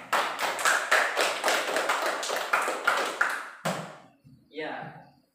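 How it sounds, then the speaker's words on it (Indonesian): Students in a classroom lesson clap in a quick, bright burst of many hands for several seconds, then the clapping stops and a voice speaks briefly. "Tepuk tangan buat kalian semua."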